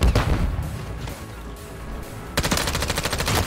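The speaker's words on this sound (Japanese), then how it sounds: "なんだ、迫撃砲か。" A mortar strike in the shooter game Call of Duty: Modern Warfare 3 lands as a loud burst of sharp, rapid blasts, then quieter rumbling battle noise, followed by another dense run of impacts.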